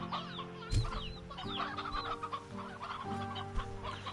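Hens cluck repeatedly in the Slime Rancher 2 video game, a busy layered chorus of close clucks over a steady humming background, with no talking.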